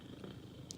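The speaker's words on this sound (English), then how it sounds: "that's my cat, if you can hear him purring" A pet cat purrs very loudly close by, a steady continuous rumble filling the short moment with no talking over it.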